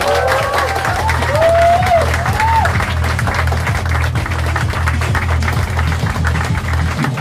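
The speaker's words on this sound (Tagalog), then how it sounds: "My brother, my friend, Mr. Greg Padilla, palakpakan!" Audience at a business presentation in the Philippines clapping to welcome a company president, a moderate wash of applause and crowd noise with a few cheers near the start, over a steady pulsing music beat.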